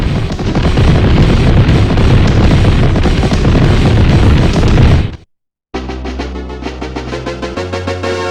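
A loud, dense, sustained blast roars from the enemy flagship blowing up in the Super Turrican 2 finale, cutting off abruptly into brief silence before game music resumes.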